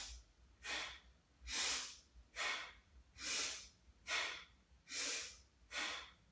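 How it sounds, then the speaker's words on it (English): Slow, deep yoga breathing by one person, with seven rhythmic breaths in and out at an even pace, close and fairly soft with no talking. "I'm going to exhale right now. Inhale. Exhale. Inhale."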